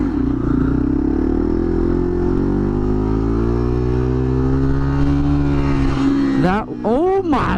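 An Audi R8 sports car revving loudly past in strong wind, its deep engine note steady and dominant before the pitch swings up and down in quick surges near the end.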